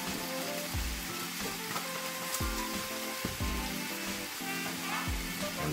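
Vegan black-eyed peas seasoned with Goya seasoning cook in a pan, giving a steady, close sizzle and hiss with recurring soft low thumps of stirring throughout.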